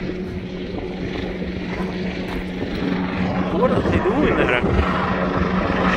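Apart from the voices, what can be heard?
helicopter flying overhead near lava flow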